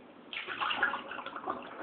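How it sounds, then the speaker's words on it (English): Excess water is poured out of a bag holding a thawed feeder rat, a short soft splashing trickle that starts abruptly and runs on quietly without speech. "Now just get rid of this excess water."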